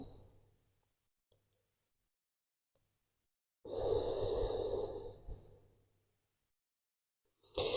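Slow, audible breaths taken during a yoga pose: after a fading exhale and a long pause, one soft, drawn-out breath swells and dies away, then another begins.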